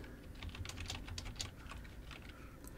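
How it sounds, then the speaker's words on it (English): Rapid, steady typing on a computer keyboard while entering text into an HTML heading tag, with close, crisp key clicks filling the whole stretch without pauses and no voice over it. "inside of that H1 tag, I'm going to type"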